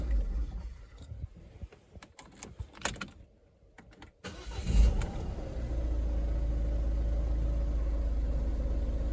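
Citroën Berlingo B9 van with a 1.6 HDi diesel engine settles into a steady, loud idle after some clatter and a brief quiet pause, its low drone continuous and close through the remaining seconds.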